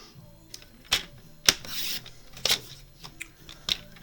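Paper sheets are trimmed to size on a cutter or blade, giving a handful of sharp, separate snips and rasping slides spaced irregularly, fairly close and moderately loud in a quiet room.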